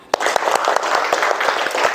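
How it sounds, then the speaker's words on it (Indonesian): Students in a classroom clap along in a quick burst of applause, sharp irregular claps close by for about two seconds. "Tepuk tangan untuk semuanya."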